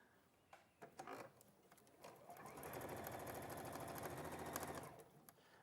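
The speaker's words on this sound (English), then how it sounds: "So I'm going to do a centimetre seam allowance on this. Underneath, we go back stitching at the beginning and end." A sewing machine stitches a centimetre seam with backstitching at the start and end, its steady rapid needle clatter running close and loud for several seconds after a few short bursts, with no talk over it.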